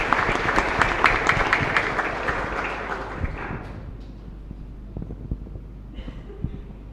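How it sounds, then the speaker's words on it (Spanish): Applause from a congregation at a patronal festival for the Virgen del Carmen in a chapel, dense and loud for about four seconds, then thinning to scattered claps and faint room noise. "Un fuerte aplauso para todos ustedes"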